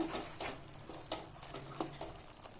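Ground masala being stirred into sautéed tomatoes in a pan for a Kerala-style kadala curry: a quiet, continuous sizzle with soft, regularly spaced scraping strokes of a spoon roughly every half second.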